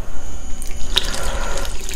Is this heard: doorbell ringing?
no